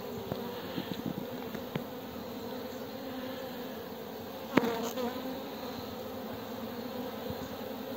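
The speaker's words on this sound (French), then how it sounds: "on voit encore une fois les abeilles qui rentrent du pollen" A soft, steady drone of many honeybees buzzing at a hive entrance in February as they bring in pollen, with a single faint knock partway through.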